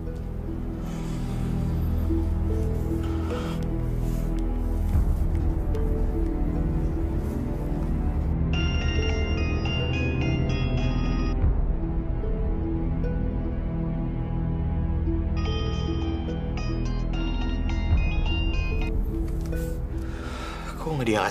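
A phone rings unanswered, its repeated electronic ring bursts coming in two separate stretches over a steady background, with speech heard around them.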